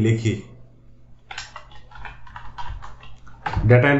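A burst of quick, light computer keyboard keystrokes types a search into a web page, a steady run of clicks lasting about two seconds, with someone speaking just before and after.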